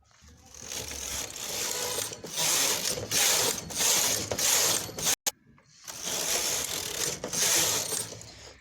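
A punch card knitting machine knitting cardigan stitches, its carriage making long loud mechanical rattling sweeps back and forth, with a brief pause midway between passes.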